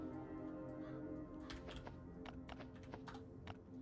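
Computer keyboard keys pressed for a Control and minus shortcut while playing Last Day on Earth: Survival, giving a quick scattering of soft, close clicks over a quiet background hum.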